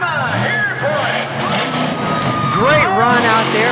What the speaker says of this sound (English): He flat abuses that Bigfoot truck.